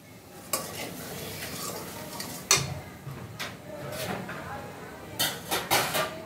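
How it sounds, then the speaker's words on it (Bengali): Dried red chillies crackling in hot oil for tempering a Bengali mashed dish, a soft sizzle under clinks of a spoon against the pan, with a voice talking over it. "দেখো, আমি ভর্তাটা বাগার দেওয়ার জন্য চলে আসলাম। দিয়ে দিলাম শুকনো মরিচ, তেলের উপরে দিয়ে দেব হলুদ"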